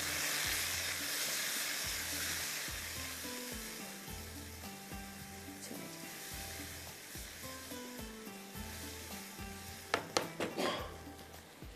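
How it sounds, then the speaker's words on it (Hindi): Turmeric is stirred into a masala frying in a pan for reshmi tawa boti, a steady soft sizzle under a regular pulsing background, ending in a few sharp clinks of a spoon against the pan. "साथ में इसमें जाएगी हल्दी और थोड़ा सा इसको मैं मिक्स करूँगी"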